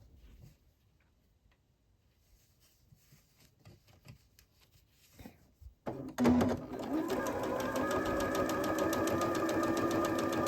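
A sewing machine starts up under foot-pedal control while piecing a quilt block, after quiet handling sounds, then runs in a steady, close, rapid rhythmic hum for several seconds.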